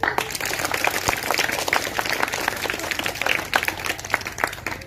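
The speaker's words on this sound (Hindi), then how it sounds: "जोरदार तालियां" Loud, dense applause from an audience at a gathering honouring a young schoolgirl, steady clapping filling the whole stretch without letting up.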